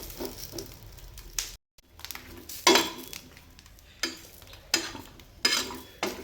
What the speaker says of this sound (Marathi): यावर मी तेल वगैरे काही टाकलं नाही, तशा कोरड्या भाजून घेत आहे आधी